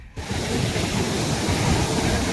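Sea waves wash in at Marina Beach in Chennai, a steady broad rushing roar of surf, fairly close and continuous, mixed with some wind. No voices are heard.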